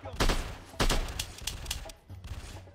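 Bursts of gunfire in a shooter video game, two heavy close volleys followed by quieter scattered shots under a faint voice.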